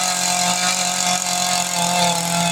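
A dull chainsaw grinds steadily through a big white oak log, a loud continuous engine drone with a strained, buzzy tone that holds without a break.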